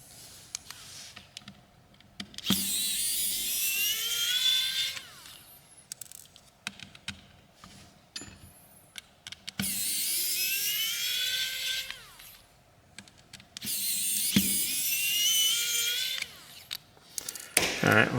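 A power screwdriver whirs in several long high-pitched bursts with winding-down tails, removing small motherboard screws from a FoxxD A67W tablet, with quieter handling clicks and talk between runs.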